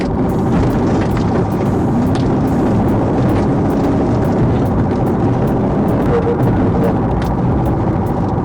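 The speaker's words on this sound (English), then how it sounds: "The driver recklessly sped across lanes, overtaking other vehicles." A car speeds recklessly across lanes during a police chase, its engine roaring loud and continuous with a steady rush of road and wind noise throughout, broken by faint brief ticks.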